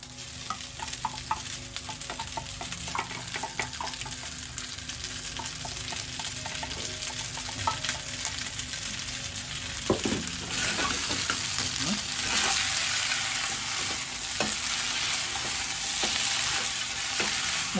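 Spaghetti noodles for Japanese Napolitan sizzle steadily in a hot pan over high heat, with a continuous close frying hiss broken by occasional scrapes and stirring clatter.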